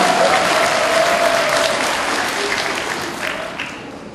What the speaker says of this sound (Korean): 박수로 맞으시죠